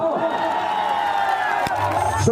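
Crowd of Khesari fans clapping and cheering at an outdoor public speech, a dense, loud, unbroken roar of voices and hands filling the whole stretch, with shouting mixed in.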